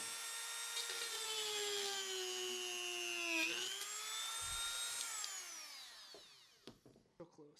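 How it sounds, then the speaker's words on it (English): A Dremel rotary tool whines at a high, steady pitch as it widens a hole in a craft skull, its tone dipping and rising with load before spinning down and stopping, followed by a few light handling knocks. "now that the Dremel is all the way through, I'm kind of just widening the hole ever so slightly to make sure that this can fit in"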